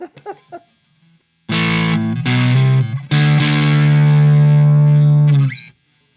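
Electric guitar through an overdrive pedal: after a few faint plucks, a loud driven chord rings, then a short riff settles into a long sustained note before cutting off.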